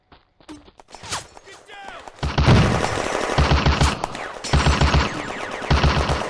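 Heavy machine gun fire in a war video game set in a French village in May 1940, with dense rapid bursts building after a quieter start with scattered shots and calls, then sustained loud chattering volleys.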